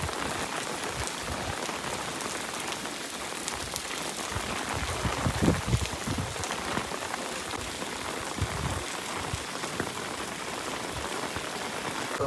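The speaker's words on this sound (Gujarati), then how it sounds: "અત્યારે જો બહુ વરસાદ ચાલુ થઈ ગયો, પવન ને બધું" Heavy rain pours steadily onto surfaces outside a village home during a monsoon downpour with wind, a dense, continuous hiss with scattered louder splashes and no voices.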